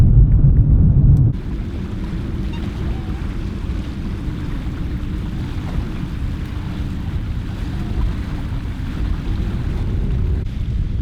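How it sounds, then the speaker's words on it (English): Waves washing by the water along an Australian shore, a steady broadband rush with wind buffeting the microphone, loudest in the first second and then an even, continuous wash with no talking. "Listen to those waves."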